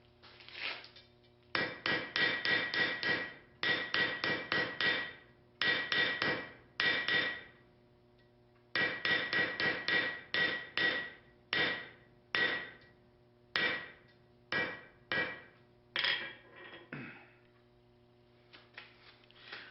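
A hammer taps texture into the face of a cast pewter pendant made from scrap pewter, struck lightly in quick bursts of many close metallic blows separated by short pauses, steady and near with no voices.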